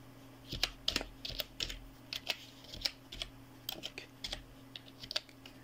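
Computer keyboard keys tapped in quick irregular bursts while typing a word in Microsoft Word, close and clear, with a steady low electrical hum underneath and no talking.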